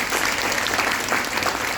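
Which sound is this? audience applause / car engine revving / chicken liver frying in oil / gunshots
audience applause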